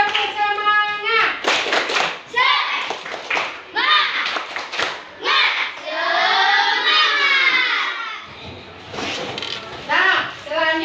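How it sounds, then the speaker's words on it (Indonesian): A group of children chanting an Indonesian classroom clapping cheer in rhythm, clapping hands in quick bursts between the chanted phrases, loud and close. "mari kita tepuk semangat. Ayo, 1, 2, 3. Tepuk semangat."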